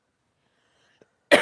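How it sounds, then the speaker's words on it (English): Near silence with a tiny click, then a single loud, close cough bursts out at the very end. "Coughing too much."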